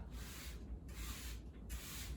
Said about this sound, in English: you're spraying from underneath as well